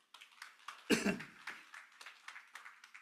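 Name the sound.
congregation applauding in church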